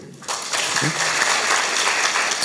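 Audience applause at a lecture, a sustained burst of clapping from a crowd that starts suddenly and carries steadily at close range for a couple of seconds.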